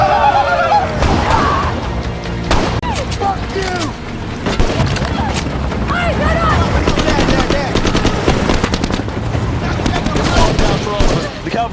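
Dense action-film gunfire with a soldier squad pursuing in the African interior: rapid machine-gun bursts and overlapping shots, loud and continuous, mixed with shouting voices and chaotic background commotion.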